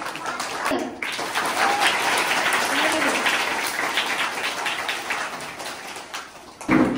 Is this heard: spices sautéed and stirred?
no